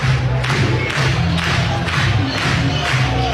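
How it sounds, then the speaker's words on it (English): Softball stadium crowd at an Oklahoma versus Florida State super regional game roars in a sustained frenzy, loud and continuous with swelling cheers and yelling throughout, no single voice standing out. "the crowd has worked into a frenzy here"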